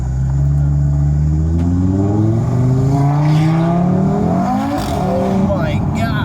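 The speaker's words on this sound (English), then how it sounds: "The Audi sounds." A tuned Audi RS3 engine revs loudly and climbs through rising pitch sweeps at a small car meet, holding strong and close throughout as people talk over it.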